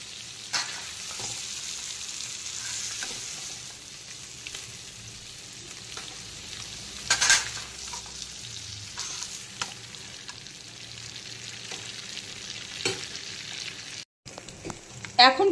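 Potatoes and prawns frying in oil in a pan, a steady soft sizzle running throughout with occasional stirring clatters and a brief louder burst midway.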